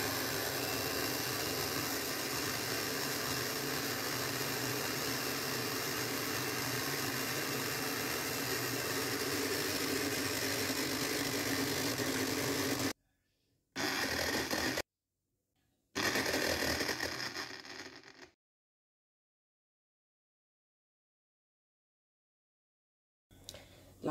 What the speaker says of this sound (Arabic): غنحاول نخلط هاد العناصر كاملة.